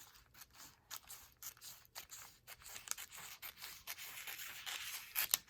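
Scissors cut fabric for a front cover, faint close snips and rubbing scrapes in an irregular rhythm, with a few sharper crisp cuts toward the end and no talking.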